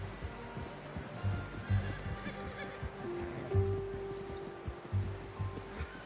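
A horse in the Western video game Red Dead Redemption 2 whinnies briefly several times, each call short and fairly close, over a steady bed of ambient game sound and low rumbles.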